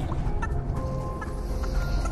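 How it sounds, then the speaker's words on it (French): A chicken in the game Fortnite gives a few close clucks over continuous game music and ambience. "Si, j'ai entendu une poule."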